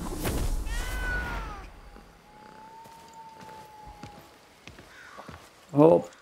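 A cat in the Blacktail video game meows with a rising, drawn-out call, followed by a thin sustained tone and a short louder burst near the end, heard under and between a player's talk.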